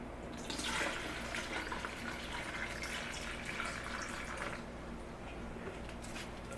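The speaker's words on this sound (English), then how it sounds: "add our 40 ounces of water." Water is poured into a container to make a beer brine for chicken, a steady close splashing gush that runs for several seconds, then tapers off toward the end with no talking.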